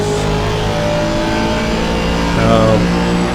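Engines of GT3 race cars at Imola in a racing video game, a steady loud continuous drone that swells slightly near the end as the cars round the final corner.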